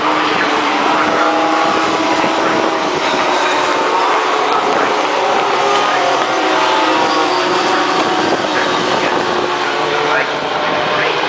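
Pickup racing trucks on a rolling lap at Rockingham in May 2009 make a loud, steady engine drone that holds unbroken throughout.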